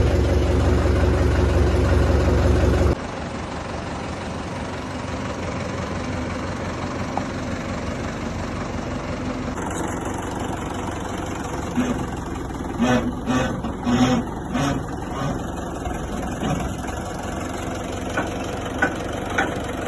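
A tractor engine idles steadily in a farmyard, a loud low rumble at first that drops to a softer running drone, with scattered clanks and knocks toward the end.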